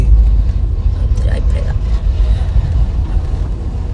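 A car driving slowly in first gear, heard from inside as a low, steady engine and road rumble with wind noise, while people talk over it.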